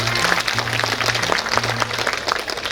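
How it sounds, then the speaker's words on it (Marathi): Audience applause at a Buddhist Dhamma conference in Hinganghat: a dense, steady wash of many hands clapping for about three seconds, fairly loud, with a low hum running underneath. "तुमच्यासाठी टाळ्या वाजवा"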